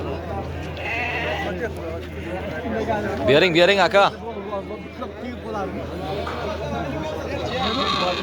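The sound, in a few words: goat kids and lambs bleating at a livestock market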